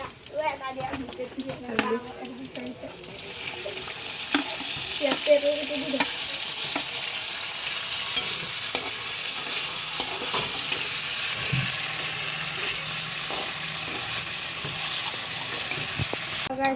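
Onions and then potatoes fry in a home kitchen pan while Maggi noodles are being made. After a quiet start with voices, a loud, steady sizzle sets in and runs on under intermittent talk.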